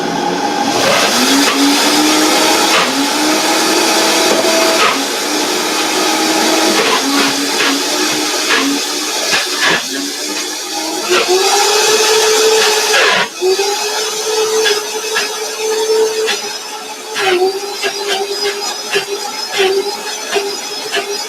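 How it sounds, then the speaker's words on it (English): A blender whirring through Irish moss, loud and continuous for about twenty seconds, its motor pitch rising and dipping as the load shifts, with no voices over it. "then we're going to put it in the blender"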